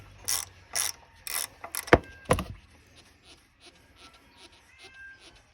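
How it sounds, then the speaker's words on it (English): Ratchet wrench loosening 12mm thermostat housing bolts on a Toyota Tundra engine, several quick bursts of rapid clicking followed by sharp metallic clanks, close and isolated, then fading to faint quieter ticks. "now I'm going to remove the bolts holding on this thermostat housing"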